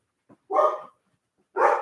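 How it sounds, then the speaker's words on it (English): Two short dog barks, close and loud, separated by a second of quiet, with a faint small yip just before the first. "She never barks, and this is twice already in this video."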